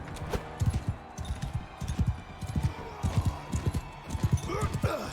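Horse hooves clip-clop in rapid galloping clusters during mounted combat in the Mount and Blade Bannerlord video game, close and rhythmic, with a voice talking over parts of it.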